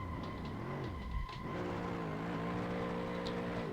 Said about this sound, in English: So, let's start by drifting around here.